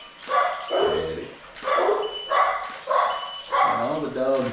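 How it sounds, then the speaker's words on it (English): Several dogs bark and yip in a repeating series of short bursts behind a glamour photo shoot, fairly prominent with voices around them. "And all the dogs barking in the background."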